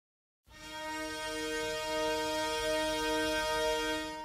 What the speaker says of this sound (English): you just have this open fifth that's being played by the hardanger fiddles and the viola da gambas